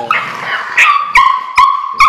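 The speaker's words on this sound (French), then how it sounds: "les tout petits n'hésitent pas à grogner pour exprimer leur mécontentement" 24-day-old puppies yipping, growling and whining in short, high-pitched bursts, several cries in a row, close by with no talking.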